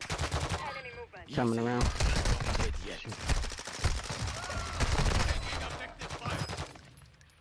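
Gunfire during a Call of Duty match, a dense stream of rapid shots and bursts filling the clip at steady loudness while players talk over it.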